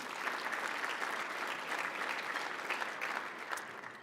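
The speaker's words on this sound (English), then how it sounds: "let's give him a round of applause." A sustained round of applause rises from a large audience at a port's annual state-of-the-port event, steady and dense throughout, with no voices standing out above it.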